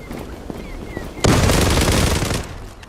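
Sustained Tommy gun fire in the shooter Zula, a loud rapid burst lasting over a second that starts abruptly after quieter scattered shots, then fades into background game noise.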